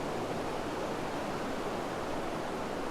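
Overcast Pacific surf at Trinidad harbor, California, rolling in as an unbroken, even roar of waves washing ashore, close and steady for the whole stretch, with no talking.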